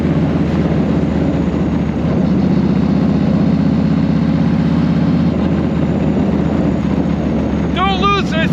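A 1999 Yamaha Road Star 1600 motorcycle idles loud and close while it warms up, its deep engine rumble pulsing steadily, with a rough running issue noted and a brief squeaky sound near the end.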